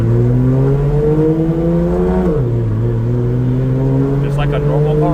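BMW E30 fitted with a DCT gearbox pulling away, engine droning loud and steady from inside the car, pitch rising then dipping at a shift before climbing again.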